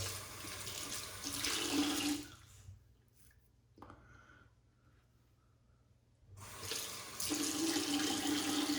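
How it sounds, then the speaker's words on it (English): Water runs steadily from a tap, a broad rushing hiss that stops for several seconds and then starts up again, close by with no talking. "So when I turn the tap on, I'm not putting water, I'm cleaning my hands."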